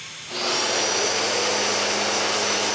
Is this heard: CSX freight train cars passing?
no